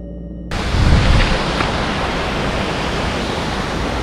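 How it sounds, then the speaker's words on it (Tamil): Water pours steadily into a natural pool near Rainbow Falls in Meghalaya, a loud, continuous broadband rush that starts abruptly, swells briefly, then holds constant. "இந்த மாதிரி சத்தம் கேட்டது எங்களுக்கு தண்ணி ஊற்றுற மாதிரி."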